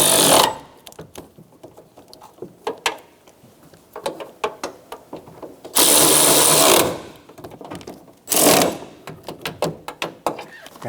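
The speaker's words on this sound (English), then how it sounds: "I'm just going to tighten our 3 bolts." A ratchet tightens three bolts on a 2012-2016 Subaru Impreza side mirror, making rapid close mechanical clicking in bursts, with a couple of longer loud whirring passes, as from a power driver, between quieter ratcheting.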